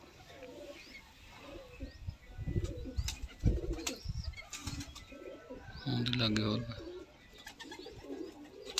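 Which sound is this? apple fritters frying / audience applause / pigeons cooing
pigeons cooing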